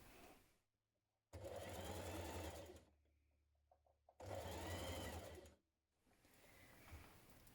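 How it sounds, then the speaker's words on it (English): Sewing machine stitching 1 cm shoulder seams on a blouse, running in two long steady bursts of rapid whirring with a quiet pause between them and softer handling noise around. "So now we're going to stitch those in place with a 1 centimetre seam."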